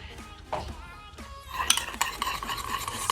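Honey being stirred into a homemade lip scrub in a small container, close clinking and scraping of a utensil against the dish, quiet at first, then busier and louder in the second half.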